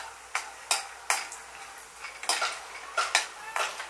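Raw peanuts being roasted in ghee in a pan, a series of sharp metallic scraping and clinking strokes from stirring at an uneven rhythm over a faint sizzle, close and alone.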